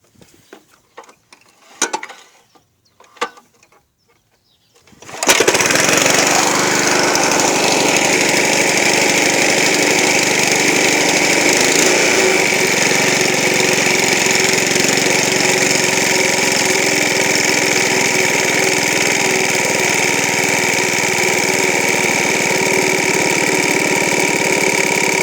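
A Honda lawn mower engine starts after a few short knocks and then runs steadily at a loud, constant drone for the rest of the clip.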